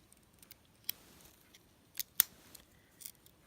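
Small scissors on a Swiss Army Climber knife snipping, a few faint, sharp metallic clicks scattered irregularly over a quiet background with no speech.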